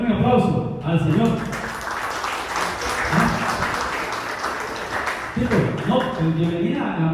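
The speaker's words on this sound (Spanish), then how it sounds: "denle un aplauso al Señor" A church congregation applauds during a service, sustained clapping in the middle while voices speak and sing before and after it.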